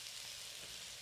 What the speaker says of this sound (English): So all of the onion is going in and sizzling.